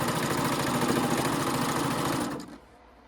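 A serger sews binding onto a quilt on a wide table, its steady motor whir running loud and continuous for over two seconds before winding down and stopping near the end.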